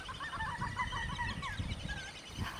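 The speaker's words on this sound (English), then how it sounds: "I love hearing the sound of the birds." Outdoor bird calls in a Central Florida wildlife setting, with goose-like honks and warbling chirps repeating across the whole stretch over a low rumbling background, fairly close and steady.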